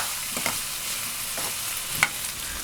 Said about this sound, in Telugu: మొత్తం అంతా వేసేసిన తర్వాత శుభ్రంగా అంతా కలిపేయాలండి